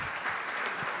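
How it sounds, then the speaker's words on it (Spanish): Audience applause at a church synod gathering, a brief burst of steady, moderately loud clapping from a crowd in a hall, with no voices. "les pido un fuerte aplauso"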